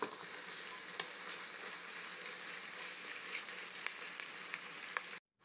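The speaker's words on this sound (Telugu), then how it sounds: "ఇప్పుడు బాగా మిక్స్ చేసేసుకోండి." Dish sizzling and frying in a pan while being stirred after salt is added, a continuous close crackling hiss with faint scrapes, ending abruptly.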